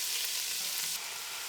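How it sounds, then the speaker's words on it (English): Onions fry in a pot with browned sausage for a South Louisiana squirrel gumbo, giving a steady, close, hissing sizzle that stays loud and even with no talking. "We're going to put our onions in."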